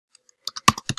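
A computer keyboard clicks as someone types. After two faint early taps comes a quick run of about six crisp, close keystrokes, with no voices.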